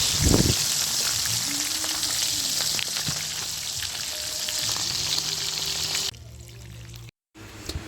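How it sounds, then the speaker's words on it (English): Hot oil sizzles and crackles steadily as fish fry, a dense bubbling hiss that cuts off abruptly near the end. "while the rest of fish are frying"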